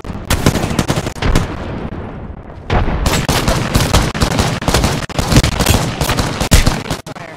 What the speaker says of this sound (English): I got grenades going on them.